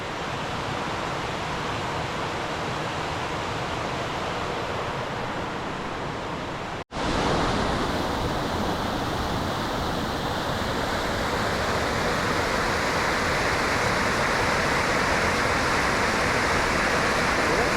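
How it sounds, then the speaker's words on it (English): Rushing water pours steadily close by on the Ramsey Cascades trail, a loud continuous roar of a flowing mountain stream with a short break partway through. "Cool little section of the stream."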